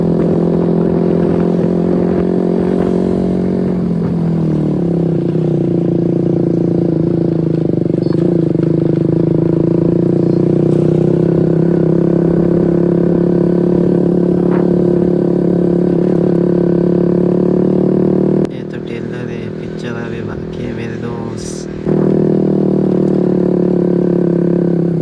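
A KTM RC motorcycle fitted with an Akrapovič exhaust runs steadily with a loud, continuous engine drone close by, briefly dipping in level near the end before resuming.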